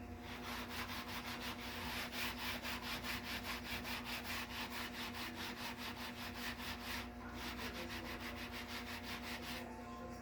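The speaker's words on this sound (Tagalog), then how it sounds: "Matagal ko na itong gustong kuskusin eh." Steady, rapid back-and-forth scrubbing of a stubborn stain off a surface, a rhythmic rasping rub repeating evenly for several seconds, close and moderately loud with no talk.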